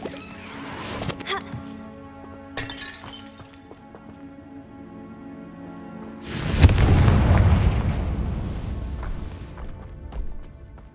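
A Confringo spell blast in Hogwarts Legacy goes off as one loud, deep explosion with a rumbling tail, preceded by a few sharper impacts and effects.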